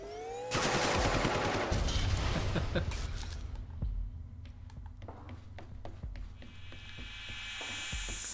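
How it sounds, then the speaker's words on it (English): Gunfire from a gun in the video game The Turing Test: a loud burst of rapid shots at the start, then scattered sharp cracks and clicks over a steady background, with no talk. "And I get to use the gun again"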